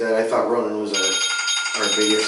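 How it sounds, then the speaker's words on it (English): A phone alarm rings with a bright, high electronic tone. It runs under someone talking through most of the stretch. "That's my alarm."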